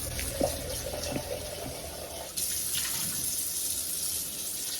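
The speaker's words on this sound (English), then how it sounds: "After every use, always empty your dirty water." Dirty water pouring out of the dirty-water tank of a Hizero F803 floor cleaner into a sink, a steady close splashing stream that grows louder and fuller partway through.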